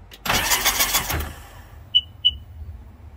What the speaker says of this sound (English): So I'll just crank it over.